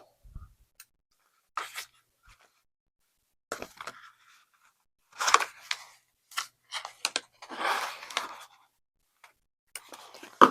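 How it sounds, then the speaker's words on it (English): Scissors snip paper in scattered short bursts around a Hobonichi Weeks ring binder, close and crisp against near silence, with a few longer cuts and crinkles toward the middle. "the scissors is not scissoring"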